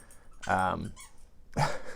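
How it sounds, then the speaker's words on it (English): A dog chews a small squeaky spongy donut toy, producing two loud, close, pitched squeaks about a second apart with quiet gaps between. "And now my dog is chewing on her little spongy donut."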